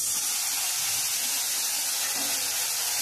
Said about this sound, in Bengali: মশলাটা পুড়ে যাবে, তার জন্য আমি সামান্য পরিমাণ জল দিয়ে দিচ্ছি।